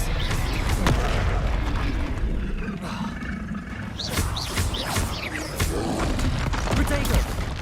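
Confringo blasting-spell explosions in Hogwarts Legacy, a dense run of booming, roaring blasts and crackling impacts that is loud and continuous, mixed with grunts and combat noise.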